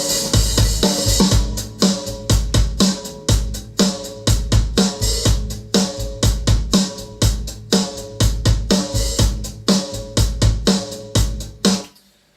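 Three layered drum kit elements combine into one full rock groove, a dense, loud pattern of booming kick, sharp snare and busy cymbals repeating steadily before stopping abruptly near the end, with no voices.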